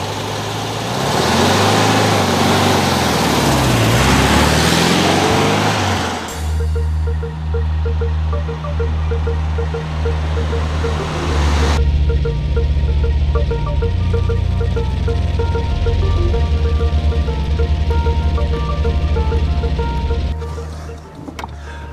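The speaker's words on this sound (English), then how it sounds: "driving the 79 Beetle Convertible is quite a trip" A 1979 Volkswagen Beetle Convertible's engine runs steadily with a deep, loud drone throughout, the pitch and load shifting partway through as the car is driven, and a buzzing tone layered over the engine.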